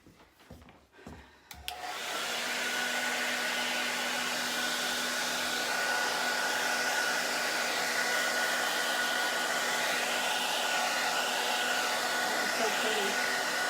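A hair dryer blows steadily on a second coat of Dixie Belle silk mineral paint, switching on after a couple of seconds of handling noise and then running loud and continuous with a constant whine to the end.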